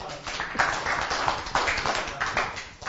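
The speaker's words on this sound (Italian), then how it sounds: "Un applauso." Scattered audience clapping at an Italian cycling race presentation event, a few uneven bursts of hands rather than a full ovation, moderately near, with murmuring voices around it.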